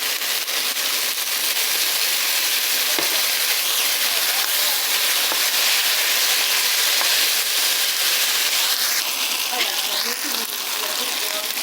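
Soy sauce sizzles in hot oil in a home kitchen, a steady loud hiss and crackle with scattered pops and spits that runs the whole time.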